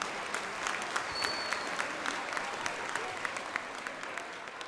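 Steady audience applause fills the hall at a beauty pageant gala in Wallis and Futuna, a dense continuous wash of clapping from a sizeable crowd with a few sharper claps standing out.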